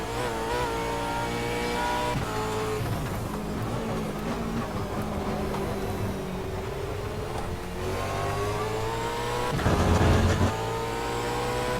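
A V8 Supercar engine in the racing game Automobilista roars and revs continuously, the pitch rising and falling through gear changes and a louder surge near the end, with no talking.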